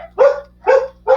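Indoor dogs bark at someone walking a dog outside: three sharp, evenly spaced barks, close and loud, with a faint steady hum beneath.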